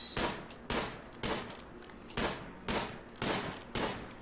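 Bursts of automatic gunfire in the video game RimWorld, about seven sharp volleys in quick succession, each a dense crackle of shots with a short tail, loud and without talk.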